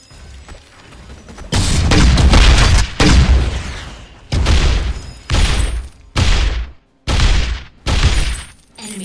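An enemy turret is destroyed in the 5v5 game Vainglory, with a run of loud booming, shattering crashes. Several separate bursts follow one another, each cut off sharply by a short gap.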